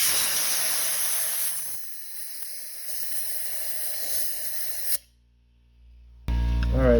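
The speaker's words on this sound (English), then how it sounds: "So now what we're going to be doing is just spraying it out." Brake cleaner hisses from a spray can into the cylinders of a 3.5L twin-turbo EcoBoost engine on a 2014 rebuild, a steady close spray that cuts off abruptly before a louder final burst.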